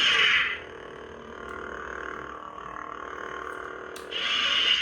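Electronic hum of a Hasbro toy lightsaber with generic Jedi sounds, louder swooshing bursts at the start and end, a steady buzzing drone in between.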